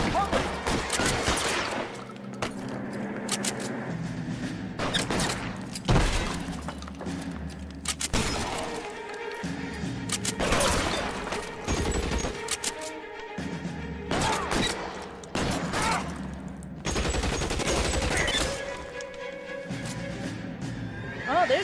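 Dense gunfire from a police shootout video game, with rapid automatic bursts, heavy booming shotgun blasts and crashes, loud and nearly continuous, with occasional game voices underneath.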